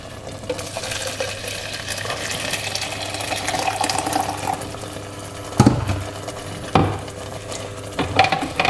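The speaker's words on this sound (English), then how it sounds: "And then we pour some hot water on it." Hot water poured into a seafood soup with pumpkin soup mix, a steady close pouring and splashing stream running for several seconds, followed by a few sharper clinks and splashes.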